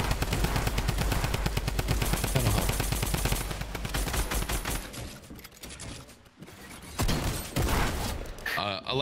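Rapid automatic gunfire in Fortnite: Battle Royale, loud dense bursts of shots with mechanical clatter, fading briefly before more close shots resume.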